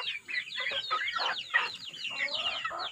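Chickens, including a hen that is laying, keep up a busy, close chorus of clucks and squawks, with overlapping calls coming in quick, uneven bursts.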